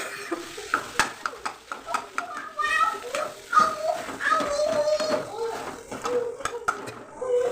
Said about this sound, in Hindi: अब हम आलू को चला चला के अच्छे से भून लेंगे।